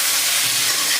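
Potato pieces stirred in a hot pan as they fry, with a loud, dense sizzling hiss that runs evenly through the short moment, no voices.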